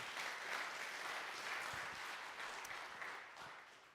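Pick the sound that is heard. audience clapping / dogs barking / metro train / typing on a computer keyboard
audience clapping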